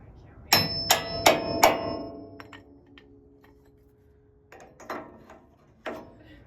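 Four sharp, loud metallic hammer strikes in quick succession knocking out Dana 44 front axle bolts on a 1978 Power Wagon, followed by a few quieter knocks and clanks after a short pause.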